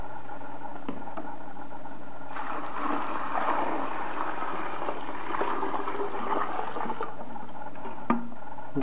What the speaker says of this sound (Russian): Заливаем эти щетки.